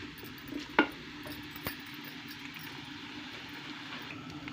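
Mangochiyan frying in hot oil, a soft, steady sizzle with a couple of faint clinks of a utensil stirring the pan, and no one talking.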